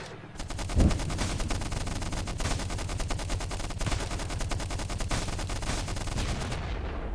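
A machine gun tank firing in the Stickman Trenches war video game, a steady rapid stream of shots with a heavier boom near the start, loud and continuous throughout.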